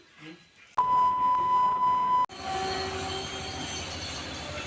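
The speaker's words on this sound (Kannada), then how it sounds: "ಇವಾಗ ನಾವು ಬಂದು ರಾಮನಗರ ರೈಲ್ವೆ ಸ್ಟೇಷನ್ ಅಲ್ಲಿ ಇದ್ದೀವಿ" A train at Ramanagara railway station passes close and loud, a steady rumble and rattle with a long high squeal or beep tone, then a brief gap and more rolling wagon noise.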